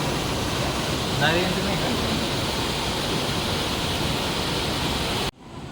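Steady broadband roar of the waterfall at Kondeshwar temple in Badlapur, constant and close, filling the clip before cutting off abruptly near the end.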